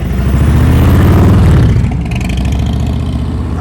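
Motorcycle engine revving hard as the bike pulls away during slow-speed riding practice, a loud, close, steady throaty growl that rises briefly then settles into a lower, even drone.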